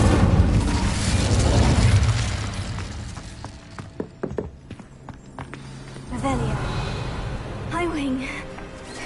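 The Incendio fire spell is cast in Hogwarts Legacy, with a loud whooshing blast, booming impacts and crackling bursts, while a voice talks over parts of it.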